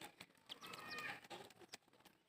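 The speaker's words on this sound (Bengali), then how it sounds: "এই একটা মুরগি মাঝখানে ঢুকে সবগুলাকে হামলাইতেছে।" A hen clucks among a small flock of pigeons in foggy winter weather, giving short, faint calls over a noisy outdoor background.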